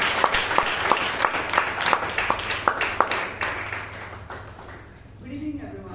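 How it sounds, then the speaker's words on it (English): A room of people at a Toastmasters club meeting in Bangalore claps together in a lively round of applause, with steady overlapping clapping that fades out near the end. "Round of applause, please."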